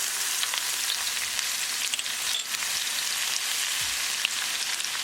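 Cumin seeds and garlic fry in heating olive oil for baingan bharta, giving a bright, hissing, crackling sizzle that stays steady and close, with a faint stir near the end.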